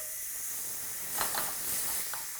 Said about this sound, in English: We've already pressure cooked it. So we actually have to let the vent off.